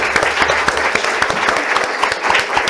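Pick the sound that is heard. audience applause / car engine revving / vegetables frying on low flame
audience applause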